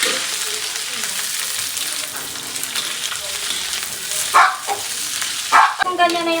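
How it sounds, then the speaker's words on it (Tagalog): Cabbage sautéing in hot oil for pancit bihon gives a steady, close broadband sizzle, broken near the end by a few sharper bursts as the pan is stirred or the oil spits. "magigisa muna tayo ng ating repolyo"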